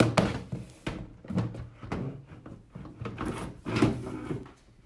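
A plastic heater panel for a one-layer chick brooder slides into a cut slot, giving a run of close scraping slides and soft hollow thunks and knocks spread across several seconds.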